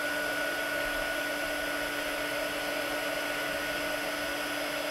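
A heat tool blows steadily while warming embossing powder on a crafting project, a continuous loud whirring roar with a fixed whine that holds without a break from start to finish, with no talking over it.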